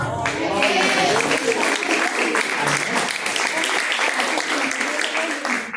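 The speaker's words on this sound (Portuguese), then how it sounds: "Palmas para Jesus." A church congregation at a live service claps loudly and continuously, a full, close wash of applause with some voices mixed in and a speaker talking briefly at the start.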